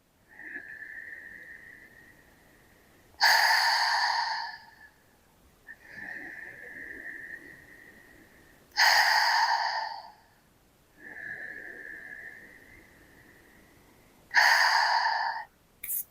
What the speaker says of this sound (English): 3 big exhales with a ha sound